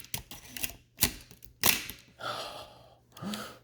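A Nikon F2 film camera fires its shutter in a few sharp mechanical clacks at irregular intervals, close and fairly quiet, with soft breathy sounds between them.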